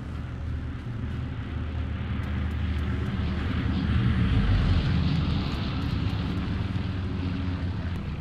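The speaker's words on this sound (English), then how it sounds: "You should see the recon plane." A recon plane flies overhead in Hell Let Loose, a steady broad engine drone that swells slightly in the middle and continues throughout, with faint scattered clicks.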